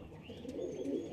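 Tapan Saha blood pigeons in a loft give a short, soft, throaty coo that swells slightly near the end, close by and without talk.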